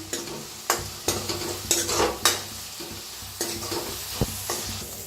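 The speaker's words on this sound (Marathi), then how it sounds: "आता ह्याच्यात टाकूया कढीपत्ता हिरव्या मिरच्या छान असं भाजून घेऊया कांद्याला मस्त असं" Onion frying in a pan with asafoetida, curry leaves and green chillies, a low continuous sizzle with repeated sharp scrapes and clinks of a spoon stirring against the pan.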